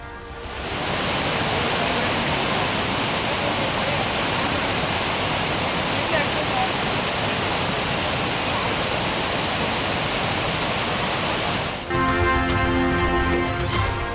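Courtallam waterfall in flood after heavy rain, a loud, steady roar of rushing water that fills the whole stretch before it shifts into a different sound near the end.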